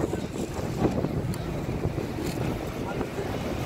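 Wind gusts steadily across the microphone outdoors at a market on a warm afternoon, forming a loud, continuous rumbling roar with no pauses.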